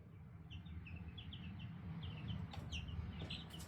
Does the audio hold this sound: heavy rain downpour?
no